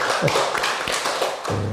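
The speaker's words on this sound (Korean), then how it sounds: "우리 엄마들을 위해서 한번 박수 한번 보내주시기 바랍니다" Audience applause for mothers at a Korean stage event, a short burst of clapping and taps with no voices over it.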